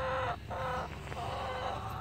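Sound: chickens clucking

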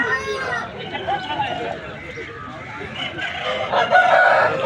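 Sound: rooster crowing at a rooster market

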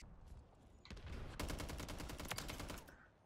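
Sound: gunfire in Call of Duty Modern Warfare 3 video game

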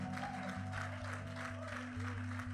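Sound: church congregation applauding God

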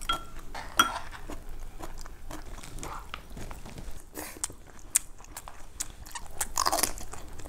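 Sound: chewing and eating food

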